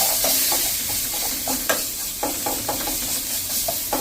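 Lentil dosa batter ingredients roast in hot oil while a spoon scrapes and stirs, giving a sizzling bed broken by regular, close knocks and scrapes against the pan.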